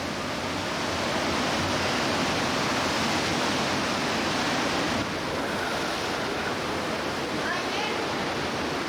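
Steady roaring surf of Mediterranean waves at a sea cave entrance on Sardinia, Italy, fills the whole stretch, a dense continuous wash of breaking water with wind noise.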